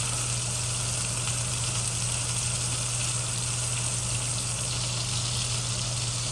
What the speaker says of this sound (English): Get a nice sear on these chuck eyes.